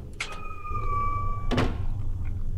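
A door in the video game Lamia Nox, after a rusty lever is pulled: a short clunk, a steady two-tone whine, then a louder sliding thud with a mechanical rattle, heard alone.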